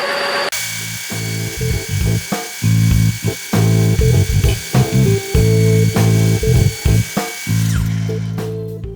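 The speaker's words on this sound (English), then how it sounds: "we're just going to dress the end of all these tubes right now" A metal lathe dressing the ends of tubes, a loud whirring cut that starts and stops in short bursts with brief pauses between passes, close up and alone.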